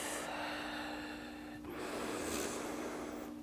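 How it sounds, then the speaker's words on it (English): Deep, slow, controlled breathing during a yoga class on a mat, two long airy breaths close to the microphone, one drawn in and one let out, with no talk. "Couple of nice, deep, slow, controlled breaths."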